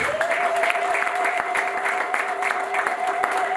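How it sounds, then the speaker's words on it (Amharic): A church congregation applauding for the glory of the Lord, a dense, even wash of clapping from many hands that holds steady for several seconds, with a sustained tone and some crowd voices underneath. "እስቲ አጨብጭቡ ለጌታ ክብር"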